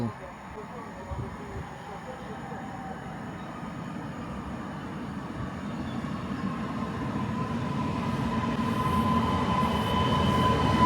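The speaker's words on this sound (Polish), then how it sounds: "A oto i nadjeżdża mój pociąg do Piaseczna." A passenger train to Piaseczno pulls into a station near Zalesie Górne, its low rumble and rail noise building steadily louder as it approaches, with faint squeals and a voice speaking over it.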